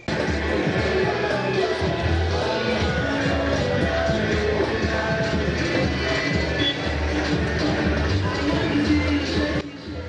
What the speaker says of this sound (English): Loud music from two pubs compete for the attention of sleepy residents